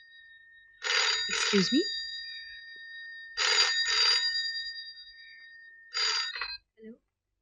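A telephone bell rings in an office, three loud bursts of rapid electronic trilling separated by short pauses, with a voice briefly speaking over the first ring.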